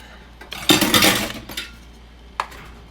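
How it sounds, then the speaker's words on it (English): A utensil stirring a chicken casserole mixture in a dish: a close burst of scraping and clinking against the container, followed by a lighter scrape and a single sharp tap. "then we just stir this up"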